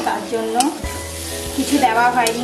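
Potol (pointed gourd) and paneer frying with poppy seed paste, stirred in a pan, giving a brief close sizzle with a few scraping strokes.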